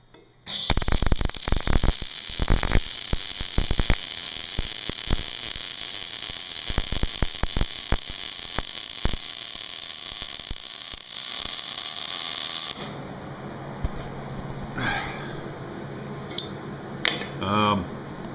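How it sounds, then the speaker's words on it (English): Gas shielded arc welding on metal: a loud, continuous buzzing crackle with sharp pops runs for about twelve seconds, then stops, leaving faint sounds and a few soft voices. "let's just go ahead and weld this out"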